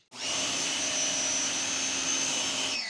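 Pressure washer spraying water through a 9.0 nozzle, a steady loud hissing rush with motor whine, starting and stopping cleanly and continuous for a few seconds.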